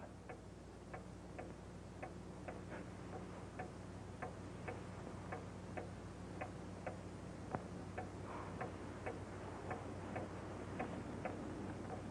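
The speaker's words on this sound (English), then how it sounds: "Wind the clock" A clock ticks steadily and evenly, each tick crisp and close in a quiet room, with a faint hum beneath and no voices.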